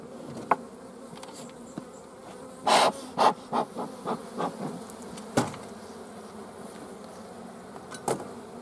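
Honey bees buzz around an open beehive as individual bees fly past close by in a series of rising and fading drones over a low, constant hum, with no voices.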